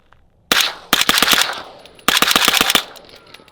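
A Noveske rifle fired outdoors on a cold night in two rapid bursts of sharp, loud shots, each burst several shots long with a brief pause between them, close and without talking.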